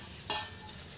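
Papdi dough dropped into hot oil, a sharp splash at the start that settles into a steady bubbling sizzle, close and moderately loud.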